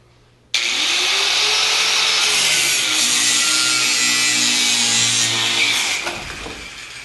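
A loud, continuous high-pitched power tool cuts through a spinning button-head hex screw on a Lamborghini Countach 5000 QV replica, starting abruptly and running steadily for several seconds before slowing and trailing off.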